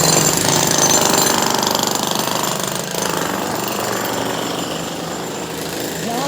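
A jackhammer pounds continuously and loudly at a house under construction in Kashmir, giving a dense, rapid rattling hammering that fills the whole stretch without a break.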